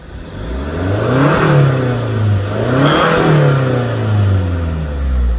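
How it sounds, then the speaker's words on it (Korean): A diesel Hyundai Grandeur HG engine with an aftermarket exhaust revs up twice in long swelling pulls, each rise falling back to a rough idle, loud and close with a throaty exhaust tone. "엔진 소리인지 배기 소리인지 약간 구별이 힘드네"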